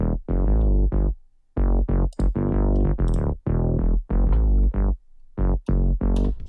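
Punchy 80s-style synth bass from a sample pack plays a bouncy, staccato riff of short plucked notes with brief gaps between phrases, loud and upfront with no voices.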